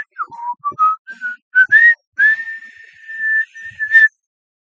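A person whistles alone to imitate the game audio of Yoshi's Crafted World on the Nintendo Switch, with short rising and falling chirps and then a long sustained high note, loud and close.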